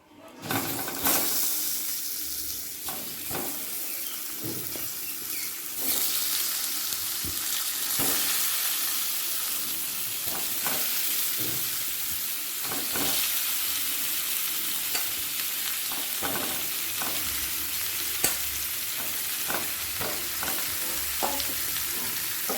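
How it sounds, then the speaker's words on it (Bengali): Potatoes frying in mustard oil with salt and turmeric, a dense, steady sizzle close by with intermittent stirring clinks and scrapes, no voices. "তেলের সাথে আলুটাকে মিশিয়ে নিলাম হালকা লাল হওয়া পর্যন্ত অপেক্ষা করব"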